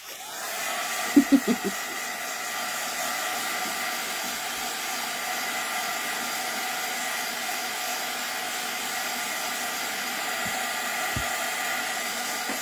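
A heat tool blows steadily on its lowest setting, drying acrylic paint on handmade cards, its even whooshing roar running throughout after a few quick clicks as it starts up.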